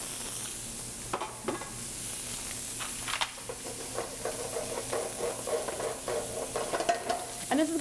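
Oil sizzles in a hot pan with a steady hiss, broken by scattered louder pops and crackles that grow busier toward the end, close by and without talk.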